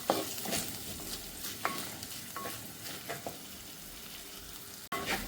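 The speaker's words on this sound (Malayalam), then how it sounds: "എന്നിട്ട് ഇതെല്ലാം എല്ലാ കൂട്ടും കൂടിയിട്ട് നല്ലവണ്ണം ഒന്ന് വഴറ്റിയെടുക്കാം." Crushed ginger, garlic, shallots and chillies sauté in a pan for a Kerala-style mackerel curry, giving a continuous sizzle broken by sharp spatula scrapes and taps, with one brief dropout near the end.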